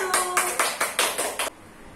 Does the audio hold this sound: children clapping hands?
yes